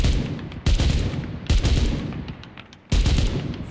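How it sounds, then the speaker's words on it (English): Gunfire from the video game Enlisted, shot in three loud, short bursts with brief pauses between them and no voices over it. "Your best bet is to fire it in bursts or fire it from a prone position."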